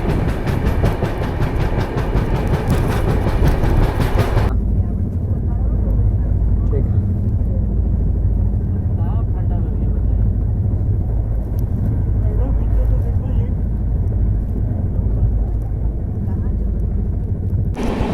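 The Shramjeevi Express passenger train, number 12391 from Rajgir to New Delhi, runs on rails with a loud, continuous rolling rumble and clatter, heard from on board, brightest in the opening seconds and then steady and muffled.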